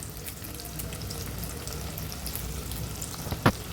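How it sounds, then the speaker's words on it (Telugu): Sliced onions and dried red chillies fry in oil in a pan for gongura chicken, a steady close sizzle throughout with one sharp louder crackle near the end. "ఉల్లిపాయలు బాగా ఫ్రై అవ్వాలి"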